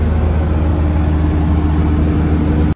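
Inside the cab of a van with its engine-bay sound barrier removed, a loud steady engine drone and road rumble fill the space while driving, cutting off abruptly at the end.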